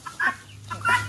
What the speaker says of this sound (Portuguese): As galinhas, capotes, cocás, guinés, caterê